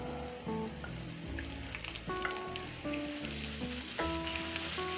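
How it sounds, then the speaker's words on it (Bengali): A paste of onion, garlic and ginger masala fries in a pan with a soft, steady sizzle beneath gentle background music, without any speech. "এখানে মশলাটাকে আরও কষাই নেব 2 থেকে 3 মিনিট"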